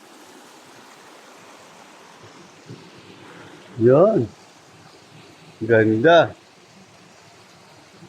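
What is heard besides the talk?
flowing water of a stream near a waterfall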